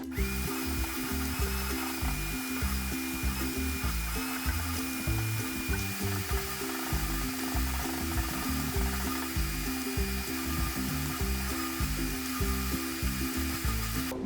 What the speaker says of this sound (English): I'm going to use a flathead and like scrape and vacuum at the same time to try to get those out.